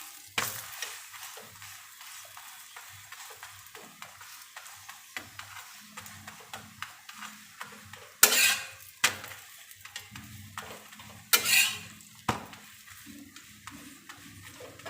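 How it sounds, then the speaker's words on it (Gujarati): Bottle gourd thepla flatbread roasting on a hot pan, with a soft ongoing sizzle broken by repeated scraping and stirring ticks from a spatula and two louder sharp scrapes against the pan, close up, with no talking. "આ રીતે થેપલાને શેકી લઈશું."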